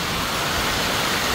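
Heavy rain pours down during a sudden December downpour, with water rushing along the street in front of a house toward a sand-clogged drain. It makes a dense, steady, broadband roar, close and unbroken, with no voices.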